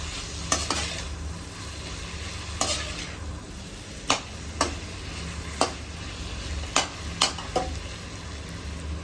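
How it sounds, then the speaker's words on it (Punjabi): Potatoes in a hot pan with Maggi masala, salt and chili, stirred with sharp scrapes and clicks of the utensil about every second over a steady close sizzle of frying, with no voices. "ਮੈਗੀ ਮਸਾਲਾ ਨੂਣ ਮਿਰਚ ਨੂੰ ਚੰਗੀ ਤਰ੍ਹਾਂ ਆਲੂਆਂ ਦੇ ਵਿੱਚ ਮਿਲਾਉਣਾ"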